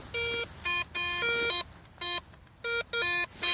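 A metal detector, swept over ground outdoors, gives a target signal read as ferrous, sounding as a run of short electronic tone bursts in an uneven stuttering rhythm. The beeps are clear and close, with no voices.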